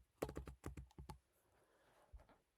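Typing on a computer keyboard in a quiet room: a quick burst of about eight sharp, close key clicks, then a pause and one last soft tap.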